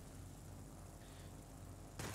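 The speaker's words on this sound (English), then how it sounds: "You can see when the large caliber cannon hit because quarter of my health bar just went boop" Large caliber cannon hits in a Wargaming tank game: a faint rumbling battle bed with a sharp, loud burst of impact near the end, no talk over it.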